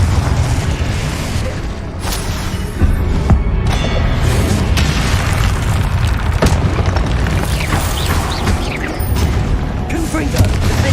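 Confringo fire spell blasts in Hogwarts Legacy combat, heavy repeated booms over dense rumbling battle noise with mechanical clatter, loud and continuous throughout.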